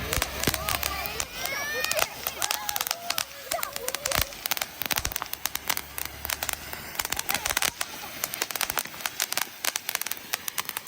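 Diwali firecrackers burst in a village, with rapid sharp cracks and pops repeating throughout, some near and loud, while voices are heard in the background.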